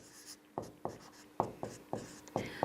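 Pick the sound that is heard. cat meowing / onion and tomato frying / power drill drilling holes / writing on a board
writing on a board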